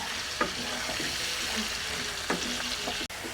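Potato pieces seasoned with salt and turmeric fry steadily in a pan, a constant close sizzle with a few scraping stirs and a light clink near the end.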